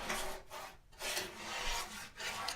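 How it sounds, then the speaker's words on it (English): Painting knife scraping paint across a board, close and loud rasping strokes in three or four sustained passes with short pauses, no voices. "I'm going to scrape in, block in as much as I can with the knife."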